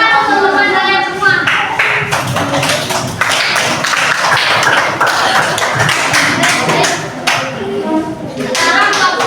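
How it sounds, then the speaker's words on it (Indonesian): Classmates in an elementary classroom applaud together, a dense, steady patter of many hands clapping close by for several seconds, with children's voices mixed in. "Tepuk tangan untuk teman kalian semua."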